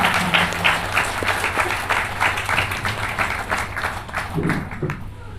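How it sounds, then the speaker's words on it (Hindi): An audience at a Catholic women's association convention in Bokaro applauds steadily to welcome a guest to the stage, a dense, sustained clapping with crowd murmur beneath. "जोरदार तालियों से आपका स्वागत है।"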